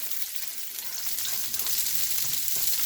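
Garlic sizzling in hot oil for a vegan mixed vegetable stir-fry, a loud, continuous crackling hiss that builds slightly and stays close, with no talking over it.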